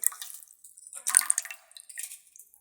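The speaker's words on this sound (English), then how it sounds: "Me pouring water." Water poured out for birds outdoors, a light trickling and dripping splash with a brief burst in the middle, faint and close, no voices.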